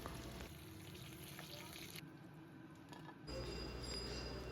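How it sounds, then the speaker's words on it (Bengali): Brinjal slices salted and coated with turmeric fry in hot mustard oil with a steady, soft sizzle and a brief clink partway through. "বেগুনগুলোর দুপিঠি হালকা লাল করে ভেজে নেব।"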